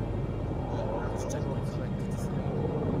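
Helicopters fly past in a video game, heard as a dense, steady rumble with faint higher flutters partway through.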